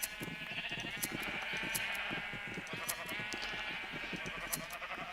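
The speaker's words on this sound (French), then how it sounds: "vous voyez, on a beaucoup de moutons" Sheep bleat repeatedly in a video game over a steady background hum, several animals calling close by in overlapping bursts.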